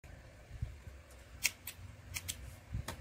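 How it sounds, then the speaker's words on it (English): Small scissors snip through crochet working yarn, a few quick crisp cuts close by, quiet and alone with no talking. "cut your working yarn"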